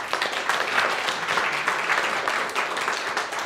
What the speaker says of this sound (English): So please give a big round of applause to Carol.